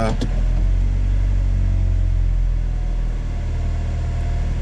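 A Honda car engine with a surging idle rumbles steadily and close by, a deep low hum holding throughout after a brief click at the start.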